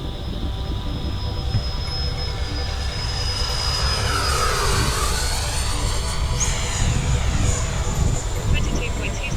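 An FMS Viper 70mm V2 RC model jet flies overhead, its high-pitched ducted-fan whine rising and falling as it passes and banks, loud and close with a whistling Doppler sweep.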